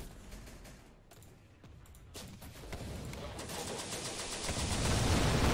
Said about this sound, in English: We got a rocket run incoming.